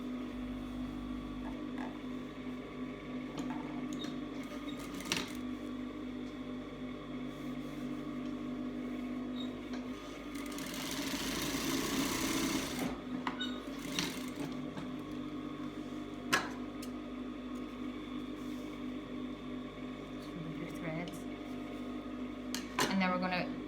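A domestic sewing machine stitches a cloth face mask with a steady, quiet mechanical hum. Its motor surges louder for a few seconds midway, with occasional small clicks throughout.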